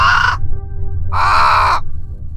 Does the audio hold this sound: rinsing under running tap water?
no